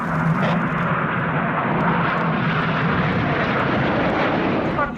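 Red Arrows BAE Hawk T1 jets roar through a flying display at an RAF airshow, a loud, sustained broadband jet rush that holds steady for the whole stretch without any voices.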